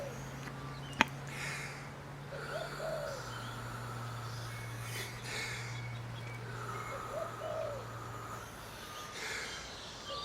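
Spotted doves at a nest with a fast-growing chick, giving soft low cooing calls and a few faint chirps over a steady background hum, with a brief click near the start.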